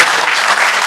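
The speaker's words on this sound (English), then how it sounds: "Jim Schaefer, one more round of applause." Audience at a live Inside Appalachia event clapping, a brief, dense burst of steady applause from a crowd.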